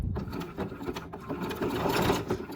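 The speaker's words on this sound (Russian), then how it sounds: "Смотрите, начинаем шить." A sewing machine stitches lingerie fabric up close, its needle mechanism whirring in a fast, even mechanical rhythm that runs continuously with slight shifts in pace.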